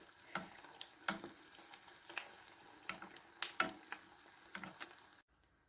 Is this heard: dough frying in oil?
yes